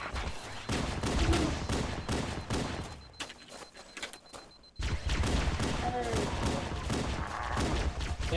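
Rapid bursts of assault rifle gunfire in a Halo game, sharp repeated shots in quick volleys, pausing briefly in the middle, with someone talking over them.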